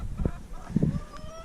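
Layer hens in a chicken tractor, a few close, honking squawks and clucks in quick uneven bursts over a second and a half.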